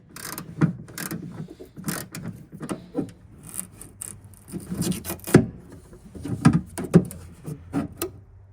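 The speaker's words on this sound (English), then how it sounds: "So let's go ahead and remove those 4 screws and the speaker will come free." Screws being backed out of a factory rear speaker in a Ford F250 with a 7/32 driver, giving close, uneven ratcheting and scraping clicks in bursts with brief pauses between them, and no talking.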